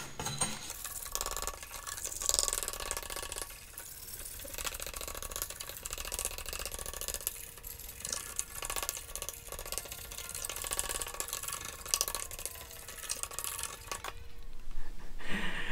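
Bamboo poles scraped by hand during finishing for house building in the Philippines, a continuous rasping, ratchety scrape repeated in close, steady strokes.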